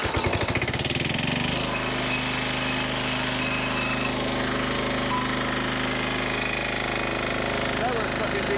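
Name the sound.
old diesel engine starting up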